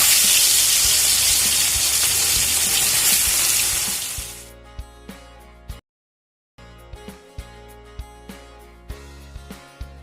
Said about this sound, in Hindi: एबे हमें माछ को भलो भाबरे लूण हल्दी रे कोट करिकरी ताकू गोटे गोटे करिकरी तेल रे भाजी नबा